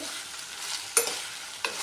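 Sliced okra, onion, green chilli and curry leaves with salt are sautéed over popped mustard seeds, giving a close, steady sizzle with two sharp spatula scrapes against the pan, and no talk.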